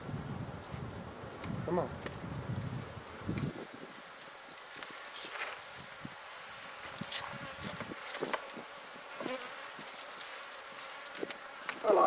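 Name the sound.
honeybees buzzing during topbar hive inspection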